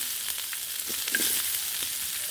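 Green chilli and onion sizzling in hot oil in a pan for a soybean curry, with a steady soft crackle and a light stir or two partway through, close by and with no talking.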